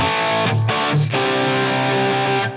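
Electric guitar played through a Line 6 Helix Brit 2204 distortion patch modeled on a Marshall JCM800, heard as loud, sustained crunchy chords with a couple of quick breaks before the final ringing chord.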